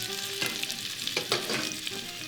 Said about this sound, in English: I'm just gonna give this a little bit of a shake to move the garlic and the potatoes around together in the pan